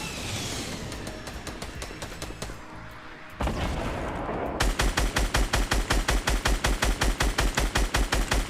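Fortnite gunfire starts with rapid, light shots over a din, then shifts midway into a loud, steady automatic weapon firing evenly spaced, punchy rounds, close and unbroken to the end.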